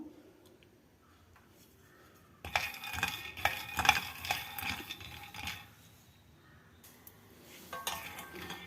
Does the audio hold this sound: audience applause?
no